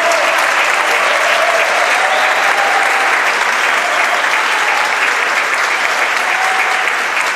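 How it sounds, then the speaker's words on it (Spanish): At a regional independent theatre festival, a crowd gives theatre makers loud, sustained applause, dense clapping that fills the hall without pause. "Un aplauso para ustedes,"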